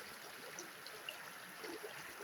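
A shallow creek flowing over a rocky riverbed, its water trickling and babbling at a soft, steady level with faint small splashes, heard alone without talk.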